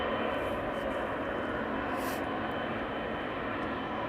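Steady, loud broadband rumble of a KLM Boeing 777-300 airliner's jet engines at Schiphol Airport, constant throughout with no rise or fall and no voices.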